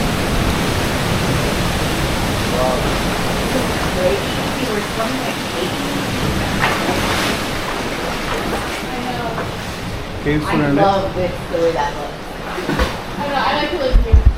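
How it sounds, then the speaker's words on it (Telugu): Strong ocean waves crashing near a rocky shore with a blowhole, a continuous loud roaring wash with surges, while people talk over it. "గట్టి గట్టిగా వేవ్స్ అయితే వస్తున్నాయి"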